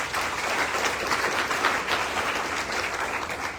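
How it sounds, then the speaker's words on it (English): A town hall audience breaks into sustained, fairly loud applause, dense clapping from many hands throughout. "So round of applause for that."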